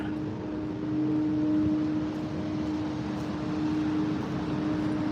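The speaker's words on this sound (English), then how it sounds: "That noise you hear is a leaf blower." Steady, droning leaf blower running nearby in a small waterfront park, a constant mid-pitched whine holding evenly for the whole stretch with no talk over it.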